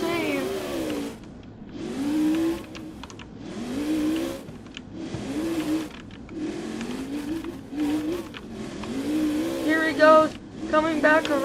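A monster truck engine in a Roblox Monster Jam freestyle at the World Finals revs and bogs in repeated rising surges, loud and continuous, with an announcer talking over it.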